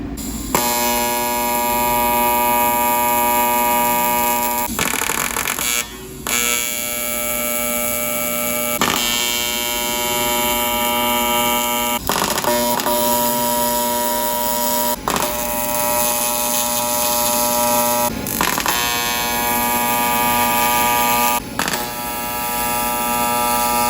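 Welding injector bungs onto a metal intake manifold: a loud, steady electric buzz with rich harmonics runs almost continuously, broken by brief gaps where the arc stops and restarts about every few seconds.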